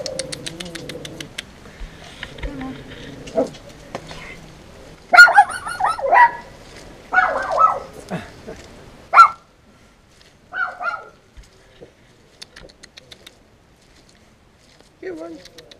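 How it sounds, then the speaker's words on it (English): Dog barking in a short run of sharp barks near the middle, set among bird coos and people talking, with quieter stretches toward the end. "Yes, who doesn't love a barking dog?"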